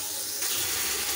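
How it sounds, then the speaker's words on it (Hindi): Water pours from a vessel into spiced masala frying in a cooking pot for palak chicken, a steady rushing splash that swells louder partway through and continues close and alone to the end. "थोड़ा सा ये पानी मैंने डाला ताकि मसाला नीचे ना लगे"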